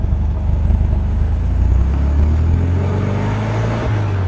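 A 1974 MG MGB Roadster with a header and flow-through exhaust, engine revving while driving, a steady close rumble that climbs in pitch and holds, heard alone without talk.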